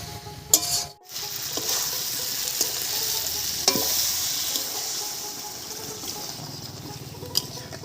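Pigeon meat sizzling steadily and loudly in hot oil in a pan, with a brief dip and splash as water is added, then continuous frying hiss with occasional stirring clinks.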